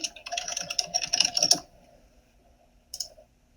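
Rapid keyboard typing during data entry into accounting software, a dense burst of clicking keystrokes for about a second and a half, then quiet and one short final cluster of key presses.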